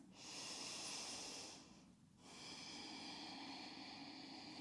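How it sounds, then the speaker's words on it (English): Deep, slow breaths taken during a yoga hip-mobility stretch, a long airy inhale-exhale, a brief pause, then another steady breath, close and soft with no talking. "Take 3 deep breaths."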